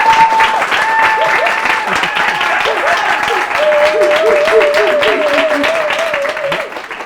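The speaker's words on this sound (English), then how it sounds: "a huge round of applause" Audience applause at a coaching talk, a dense, sustained wash of clapping that fills the whole stretch with even loudness, with voices and a few whoops mixed in over it.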